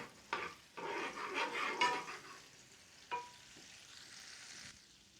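A pat of butter melting in a pan for crispy-skin salmon with lemon-rosemary sauce gives a faint, soft sizzle, broken by a few utensil clicks and scrapes against the pan.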